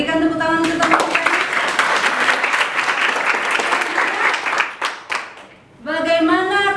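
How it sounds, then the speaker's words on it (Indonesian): Classmates in a school classroom clap together in a brisk, loud burst lasting several seconds, with a voice talking just before it and again as it fades out. "berikan tepuk tangan untuk teman-teman"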